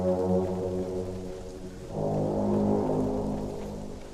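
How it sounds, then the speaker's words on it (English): A computer air horn sound effect in an online Conan Exiles session drones loudly and continuously, its deep blaring tone swelling midway through. "how annoying the air horn computer noise gets. The air horn sound."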